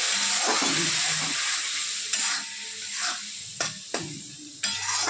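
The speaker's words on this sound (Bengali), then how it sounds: "এবার ভাজবো, একটু জল দেবো, একটু জল দিয়ে ভাজা ভাজা হোক মশলাটা" Spice paste of chili, turmeric and salt fries in oil, a steady close broadband sizzle with occasional sharper crackles and utensil scrapes as it is stirred for a fish curry with eggplant.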